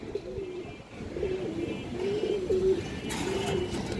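Pigeons, a male and female pair of Goira high-flyer birds, coo softly in repeated low throaty phrases at close range, with a faint background hiss and no talk.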